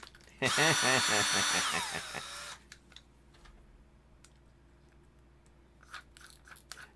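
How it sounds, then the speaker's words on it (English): A power drill whirs in one loud, close burst of about two seconds, with a high whine and grinding crunch, then cuts off, leaving quiet room noise and faint scattered clicks. "Power tools."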